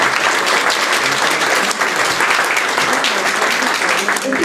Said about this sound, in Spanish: Un aplauso para Sixto Paz.